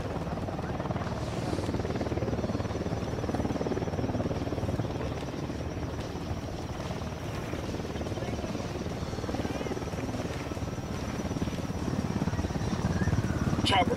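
Continuous loud helicopter rotor chop and turbine drone from a chopper in Ghost Recon Wildlands, holding steady and swelling slightly near the end, with faint speech buried beneath.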